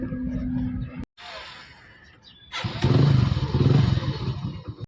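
A motorcycle engine runs close by, cuts out briefly, then returns as a louder, steady rumble with no talking.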